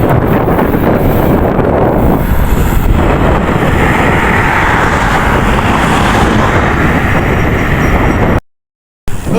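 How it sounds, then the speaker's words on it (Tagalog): Strong wind at an outdoor zoo in Manila buffets the microphone in a loud, continuous roar for several seconds before cutting out abruptly near the end. "Lakas ng hangin."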